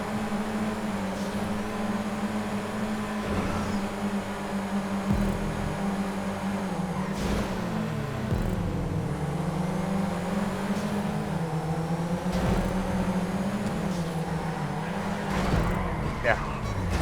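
A Declasse Rhapsody car engine in GTA 5 racing, a loud continuous drone that rises and falls in pitch as it shifts and revs, heard close throughout with some talk over it.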